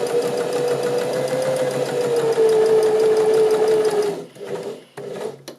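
A sewing machine runs a straight stitch seam at 2.5 stitch length, giving a steady close whirring hum for several seconds before it stops and gives a few brief bursts.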